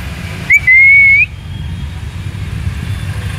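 A person gives one sustained, steady whistle to call a puppy on an Indian street. The whistle is loud and close, lasts just over half a second, and sits above a low background hum with no talk.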